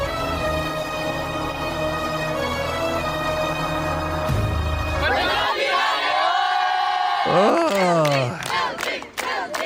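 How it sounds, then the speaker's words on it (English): Crowd voices chanting and cheering for Trudeau, a loud massed chant under a speaker's brief exclamation, shifting midway into rising shouts and whoops. "Are they really chanting for Trudeau?"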